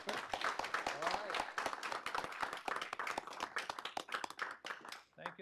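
Quiet round of applause at a county board of supervisors meeting, with distinct, scattered hand claps from a small group in a room and voices talking over them before the clapping fades out.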